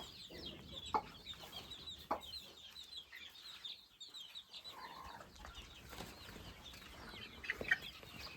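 Hens and chicks clucking at a distance with bursts of wing flapping, faint and scattered against a quiet outdoor background.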